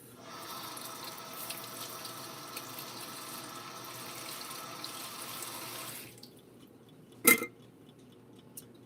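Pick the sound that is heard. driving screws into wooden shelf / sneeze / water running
water running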